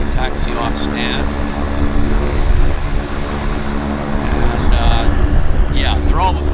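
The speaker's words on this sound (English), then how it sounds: "the Central Mountain's going to wait for this aircraft to taxi off stand" A Central Mountain Air propeller aircraft taxis off stand at Vancouver airport, with a loud steady engine drone and tonal hum close by, while voices talk over it.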